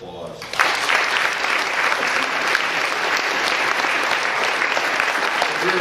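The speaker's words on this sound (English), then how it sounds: "Can we get another round of applause?" Sustained audience applause at a public interest law symposium, a dense, steady wash of many hands clapping that swells in after a brief quieter start and holds loud and even throughout, with no words spoken.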